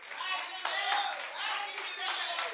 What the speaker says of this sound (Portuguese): Do na Deus 10 segundos de aplauso.